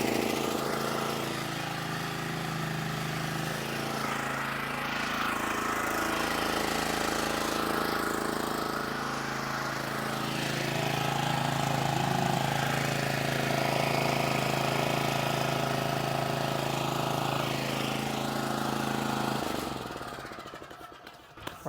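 Exmark Commercial 30 S-Series lawn mower with a Kawasaki engine running steadily close by, a continuous rough mechanical drone that swells slightly midway and then cuts off at the end.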